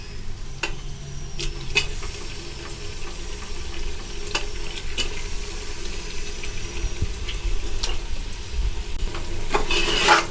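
One kilogram of mutton stirred in a pan for biryani, a steady close sizzle and frying hiss with scraping stirring clicks, continuous throughout without talk.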